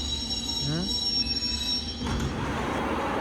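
A London Underground train pulls into a station, metal wheels squealing with a rising whine, then a loud rushing roar as the carriages arrive close by.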